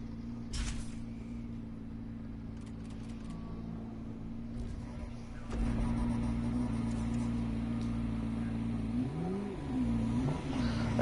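A Lamborghini engine revving in a racing video game, a steady drone with pitch rising and falling near the end, loud and continuous under occasional voices.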